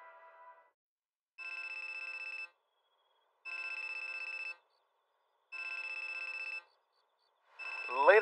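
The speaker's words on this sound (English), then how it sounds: "my peaceful slumber was interrupted by a phone call" A telephone rings at night in a bedroom, four evenly spaced electronic ring bursts separated by short silences, fairly quiet, followed by a brief voice at the end.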